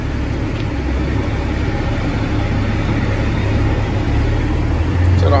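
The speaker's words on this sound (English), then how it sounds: "my truck's loud and I'm right up against a building" Loud, steady low rumble of an owner-operator flatbed truck's engine idling right beside a building, a constant droning hum that swells slightly near the end, with no voices.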